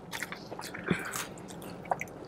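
Someone close to the mic bites into sweet, crunchy pickles served with chili at Chili John's in Burbank, California, with a couple of crisp bites followed by moist chewing.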